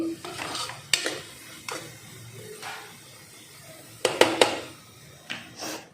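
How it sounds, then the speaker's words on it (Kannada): A spoon stirs salt, coriander powder and turmeric powder in a pan, making scattered scrapes and sharp metallic clinks in irregular bursts over a quiet kitchen background. No one speaks. "ಉಪ್ಪು ಧನಿಯಾ ಪುಡಿ ಮತ್ತು ಅರ್ಶಿನ ಪುಡಿ ಹಾಕ್ಕೊಂಡಿನಿ ನೋಡ್ರಿ ಈಗ ಒಂದು ಸತಿ ಚೆಂದಾಗಿ ಮಿಕ್ಸ್ ಮಾಡ್ಕೊತೀನಿ"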